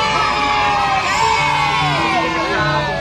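A crowd of children cheers, yells and whoops at a sixth birthday party just after the birthday song, a loud, continuous wash of overlapping young voices throughout.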